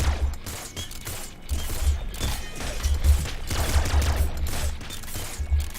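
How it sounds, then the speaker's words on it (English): Rapid volleys of bolts from an auto crossbow in the game Nuclear Throne, a dense run of sharp mechanical clacks and bursts over steady game noise with no talking. "That's an auto crossbow"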